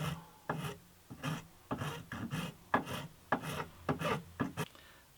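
A part for an antique parlour guitar is rubbed by hand with 400 grit sandpaper, giving a dozen or so close, short raspy back-and-forth strokes in an uneven rhythm, with no voices.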